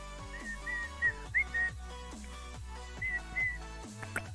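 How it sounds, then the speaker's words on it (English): A person whistling a short melodic tune in brief phrases with gliding notes and pauses, fairly quiet, over low background music. "Sorry for whistling."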